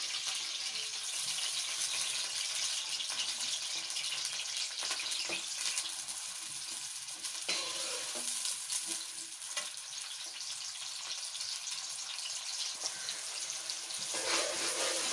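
Chopped onions frying in hot oil in a pot for desi chicken korma, a steady close sizzle with occasional stirring scrapes and clinks, no talking.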